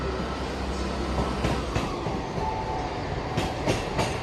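Class 158 diesel multiple unit 158843 moving through Newcastle Central station toward Carlisle, loud and close with rolling rumble and a few clacks of wheels over rail joints, no voices.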